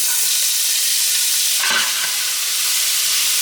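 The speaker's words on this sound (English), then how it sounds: "To this pan with all of the lovely goodness from the chorizo, you're going to add your onion" 2.5 cups of finely chopped onion sauté in rendered chorizo fat in a pan, a loud, steady, close sizzle with a brief swell of stirring partway through.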